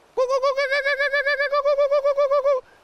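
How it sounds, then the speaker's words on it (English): Kookaburra laughing call: a loud, rapid run of about twenty evenly pulsed, tonal hoots held at one pitch for over two seconds, with no other sounds. "The kookaburra up there watching him started laughing at both of them."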